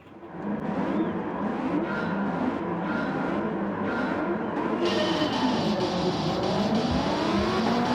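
Race cars roar off the start at Laguna Seca, engines revving hard and loud in a dense continuous blare, with rising and falling pitch as cars accelerate and pass close by.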